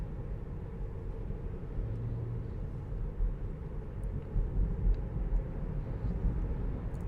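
A Tesla running Full Self-Driving on a highway produces a steady low road and tire rumble with faint wind noise inside the cabin, swelling slightly toward the end.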